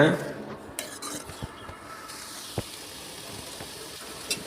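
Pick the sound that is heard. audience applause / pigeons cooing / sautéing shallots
sautéing shallots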